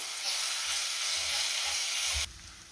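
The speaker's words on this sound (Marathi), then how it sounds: "तेल तूप गरम झाले त्यात आपण हे खडे मसाले घालूया आणि त्यातच आपल्याला आलं लसणाची पेस्ट घालायची" Whole spices and ginger-garlic paste fry in hot oil and ghee with a steady, dense sizzle that fills the clip, then drops abruptly to a quieter hiss near the end, with a low stirring rumble beneath.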